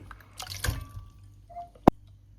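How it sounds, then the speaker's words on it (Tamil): Water goes into a cooking pot for a Tamil fish and agathi spinach sothi, heard as a few faint splashes and drips followed by one sharp, clear plop near the end in a quiet kitchen. "தேவையான அளவு தண்ணி சேர்ப்போம்."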